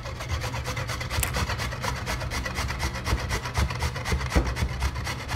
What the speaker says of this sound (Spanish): Nos vamos a ayudar de un rallador.